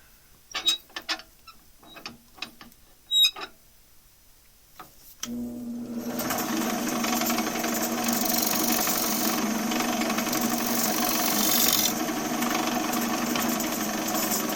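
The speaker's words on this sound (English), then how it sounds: "Chamfer the edge a little bit." Wood lathe spinning while a tool chamfers the edge of a bowl rim: a few sharp ticks and taps, then a steady close mechanical whir with a gritty cutting hiss running continuously to the end.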